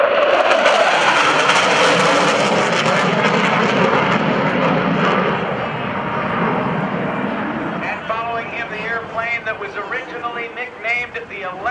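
An F-4 Phantom II Vietnam-era jet fighter passes at a naval air station airshow, a loud broadband engine roar that fades over several seconds, followed by a crowd murmur.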